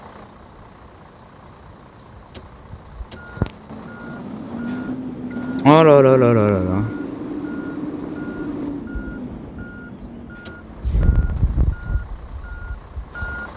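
A truck carrying a vegetable load reverses with a steady series of evenly spaced high beeps over a low idling engine, with a brief hiss of air brake and rumbling movement, while someone talks nearby and exclaims.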